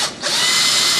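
A small electric drill boring into a wooden sign whirs steadily at high pitch, a brief dip at the start before it bites in and runs on evenly.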